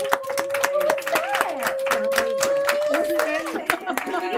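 Audience members at a school board meeting clap and cheer for a third-grade student being honored, with brisk hand claps mixed with excited voices and cheers close by.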